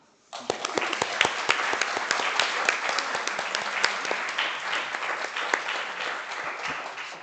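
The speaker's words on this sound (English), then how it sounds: "So the greatest applaud to our heart of the project, Svetlana." Conference audience applauding for an incoming project head, dense sustained clapping from many hands at close range for several seconds with no talk over it.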